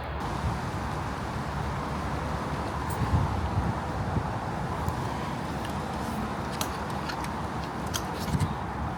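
Wind picks up outdoors at dusk, a steady broad rushing with gusts buffeting the microphone and faint rustling, continuous and moderately loud.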